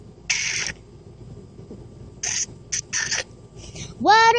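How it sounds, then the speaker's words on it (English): Eerie scratching comes in short, harsh bursts: one long scrape, a cluster of quick scratches, then a rising squeaky whine at the end, with quiet gaps in between. "What is that scary scratching noise?"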